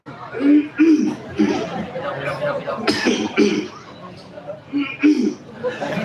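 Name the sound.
cough in mosque audience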